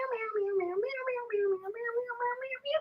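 A person imitates a cat's meow with their voice, a sustained wavering, harmonic mewing call running continuously for nearly three seconds, close and fairly loud.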